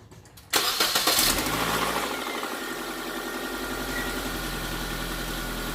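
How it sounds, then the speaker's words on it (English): A car with an SR20 engine cranks briefly, catches and fires up, then settles into a steady, even idle with a low rumble. The engine sounds close by and runs alone, with no talk over it. "Now let's go ahead and turn the car on. I'm gonna let it idle for about 15 minutes."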